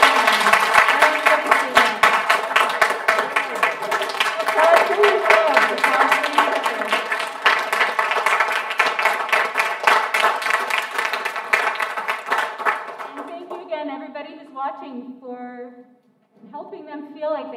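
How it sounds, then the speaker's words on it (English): A crowd applauds loudly and steadily for several seconds at a middle school honor orchestra concert, then the clapping thins out and fades near the end. "So, one more round of applause for everybody."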